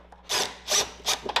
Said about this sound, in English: So, we're gonna take your ratchet, make sure you're righty-tighty.